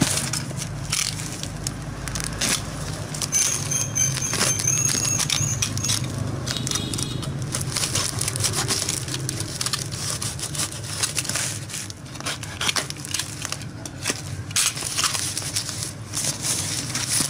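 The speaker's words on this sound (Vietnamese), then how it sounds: "Và sau đây thì em sẽ bóc cái kiện hàng này ra." A shipped parcel being torn open and unwrapped, with continuous close crinkling, rustling and crushing of packaging plus scattered knocks and handling noises throughout, no talking.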